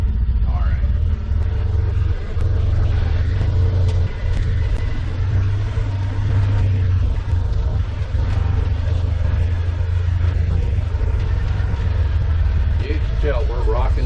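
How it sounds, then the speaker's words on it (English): An off-road vehicle drives through woods over stinging nettle and black-cap berry brush, its loud, constant engine rumble filling the cab close up while people talk throughout. "Now we can just do some fun driving through the woods."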